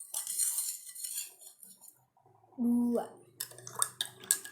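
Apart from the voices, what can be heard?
spoon stirring salt into water in a glass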